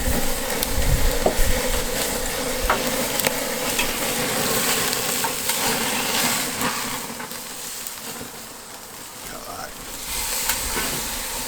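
A giant 100 oz rump steak sizzles over a Weber 57 cm kettle grill fitted with a Slow N Sear, giving a steady, close, loud crackling hiss with occasional sharper pops that eases slightly partway through, with no talking.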